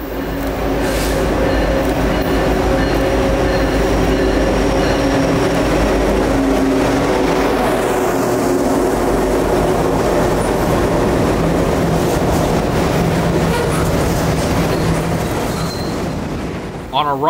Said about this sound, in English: 189 is the same auto rack train that we saw in downtown Dayton yesterday